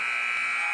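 At a girls' varsity high school basketball game, the buzzer sounds as a loud, steady electronic tone that holds through the whole moment without a break.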